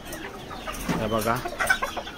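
Desi village chickens cluck softly as they return to the coop at dusk, several overlapping calls close by, with someone speaking over them.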